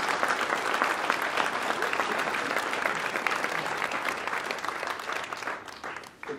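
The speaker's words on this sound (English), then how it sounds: "could we please just give them a very big round of applause" Guests at a charity ball giving a big round of applause, a full, sustained crowd clapping that holds steady before tapering off slightly at the close.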